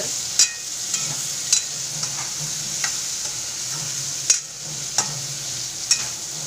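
Masala sautéed in oil sizzles steadily up close, with sharp spoon knocks and scrapes against the pan at irregular moments; no speech.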